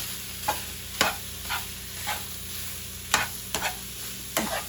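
Sausage browns in a pan with a constant soft sizzle, broken by about half a dozen sharp spatula scrapes and taps at uneven intervals, close up and with no talking.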